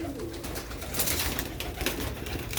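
Sialkoti pigeons at close range, giving soft, low murmuring coos under a faint hiss of background noise.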